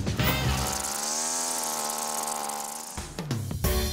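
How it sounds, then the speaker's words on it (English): A weed whacker string trimmer running outdoors at a convention centre landscaping job, a loud buzzing whine with engine revs that rise and fall, then a few sharp rattling bursts at the end. "We're gonna have you go back on the weed whacker."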